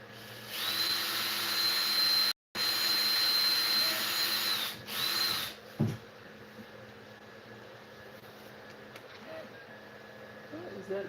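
A power drill boring a hole runs loud and close in a workshop in two bursts around a brief stop, then cuts out, followed by quieter shop noise and some talk.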